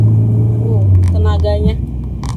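A 1990s BMW E36 323i heard from inside rises in a low droning engine note as it speeds up, with a voice talking over the rumble partway through.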